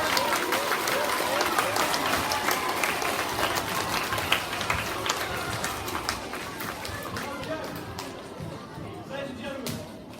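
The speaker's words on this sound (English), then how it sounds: "We have one last round of applause for our Green Party." Audience applause after a Green Party segment at a 7 July 2023 event: a dense, steady wash of clapping from a large crowd, loud at first and tapering slightly, with voices mixed in.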